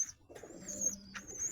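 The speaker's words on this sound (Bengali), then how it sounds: "এই হচ্ছে আমার পায়রা" High-flyer pigeons coo softly in a breeding loft, a low warbling coo rising and falling under faint higher chirps, quiet and close with no voices.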